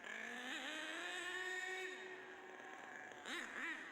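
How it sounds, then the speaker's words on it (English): A nitro-engine Savage X/XL RC truck runs up and down a road to warm up, its high buzzing engine whining steadily with pitch sweeps as it revs, then dipping and surging again near the end. "First, run up and down the road a few times to warm the engine up."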